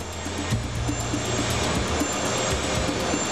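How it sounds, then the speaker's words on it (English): Jet engines roar loud and steady during the takeoff of Air Florida Flight 90, in a recording whose low, pulsing rumble sits under a constant high whine. "compares the sound of his test flight to the engine noise captured during Flight 90's takeoff"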